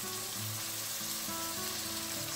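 Water hits browned pork in a hot pan for picadillo, giving a close, steady, crackling sizzle that fills the short moment without any talk.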